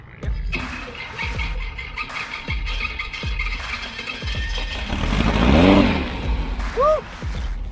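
A vehicle on sand dunes starting off in gear, its engine revving up in repeated surges that swell into a longer, louder pull, with brief squealing whines near the end.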